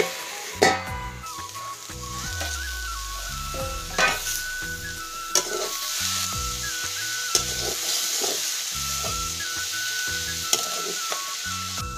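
Matikaduri greens and potato pieces fry in a pan with a constant close sizzle, broken by repeated scraping stirs and clinks of the utensil.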